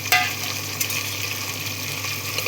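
Chopped tomatoes fry in a hot pan, a steady soft sizzle and hiss with a light clink near the start, heard alone.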